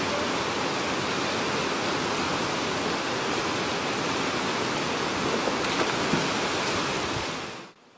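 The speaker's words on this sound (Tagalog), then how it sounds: "Sa sobrang lakas ng agos ng daloy ng tubig" A strong river current rushes along a mountain trail near Daraitan, Tanay, Rizal, a steady, loud, broadband roar of water that holds constant throughout before cutting off at the very end.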